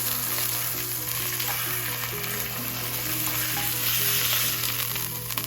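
Grass-fed beef shank sears in a hot pan with a loud, constant sizzle that holds steady throughout, with no talking.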